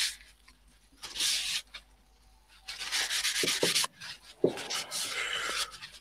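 A Dremel rotary tool textures the surface of a wooden carving in three bursts of harsh, abrasive grinding, each lasting about a second, separated by short quiet pauses.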